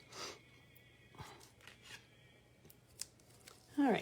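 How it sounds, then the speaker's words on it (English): Scissors snip through a sticky paper dimensional for a pop-up three-step card, a few short quiet cuts spread out, the last one louder and close, with soft handling noises between. "I want to use the scissors that I use on sticky things."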